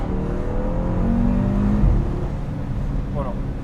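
Audi RS3 8V2 engine in manual dynamic mode, a steady loud rumble with a rising rev that drops off sharply midway, continuing as a close, full drone, with a voice briefly heard near the end.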